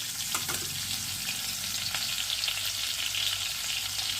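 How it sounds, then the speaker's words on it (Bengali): Eggs frying in a pan for an egg and broccoli curry, a steady close sizzle of hot oil with a few sharp crackles and pops throughout, no talking. "ডিমটাকে ভেজে নিচ্ছি খুব কিন্তু কড়া করে আবার ভাজবো না"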